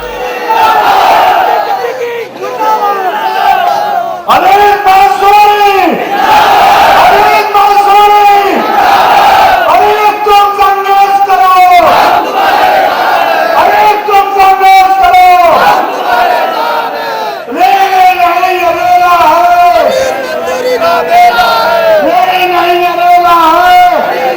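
Large crowd at a Pasmanda Muslim political rally roaring with loud, sustained chanting and shouting in repeated surging waves, dense and close, lasting throughout.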